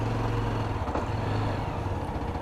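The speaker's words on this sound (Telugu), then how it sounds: "ఇక్కడ ట్రాఫిక్ అయితే ఫుల్ ఉంది." Heavy road traffic near an old railway station gives a dense, continuous rumble of engines close by, steady throughout the short stretch with no speech.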